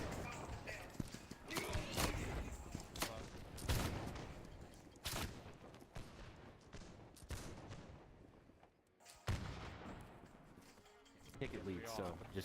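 Musket volleys crack repeatedly in the video game Holdfast: Nations At War, with irregular shots and ragged fusillades from near and far mixed with a busy battlefield din, and voices can be heard in the background.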